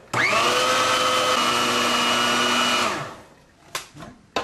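A food processor pulses butter into flour for Caribbean meat pie dough, with one loud, steady motor whir lasting about three seconds before it stops, followed by a couple of faint clicks and knocks.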